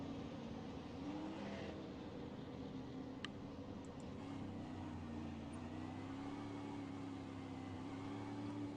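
Race cars in a USA SLM series race, a steady engine drone with shifting pitch, fairly faint and continuous, no talk heard.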